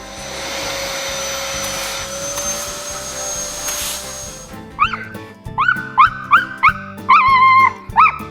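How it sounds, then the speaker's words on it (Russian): A vacuum cleaner runs with a steady, loud drone for about four seconds, then cuts off, followed by a string of high-pitched dog yips and whimpers. "Сюда мама идет пылесосить!"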